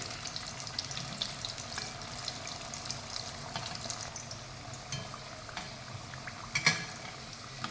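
A wheat flour snack deep-frying in hot oil in a kadhai over a medium flame gives a steady, dense sizzle and bubbling crackle. There are occasional faint clinks of a utensil near the end.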